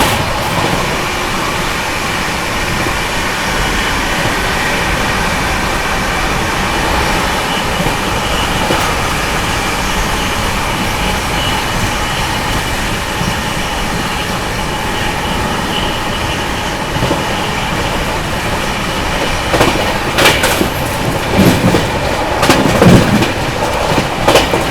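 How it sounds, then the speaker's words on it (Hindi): The Maharashtra Sampark Kranti Express runs past Hindaun City station without stopping, giving a steady rolling rumble of wheels on rails with a burst of rattling clatter near the end. "अभी अपनी ट्रेन ने हिंडौन सिटी को स्किप किया था दोस्तों"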